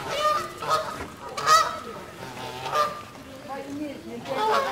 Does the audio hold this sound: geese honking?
yes